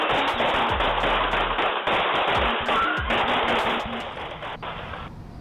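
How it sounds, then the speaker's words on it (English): Gunfire at a Chicago funeral shooting captured on news footage: a rapid, sustained string of sharp cracking shots, loud and continuous with short gaps, over a harsh, noisy background. "You can hear the gunfire."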